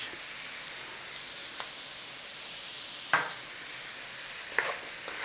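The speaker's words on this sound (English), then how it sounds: "Nice little fry on these first, and then we're going to chuck the onions in" Food frying in a small tin before onions go in, seasoned with salt and pepper, a soft continuous sizzle with a couple of sharp stirring clinks and scrapes, close and quiet, no voices.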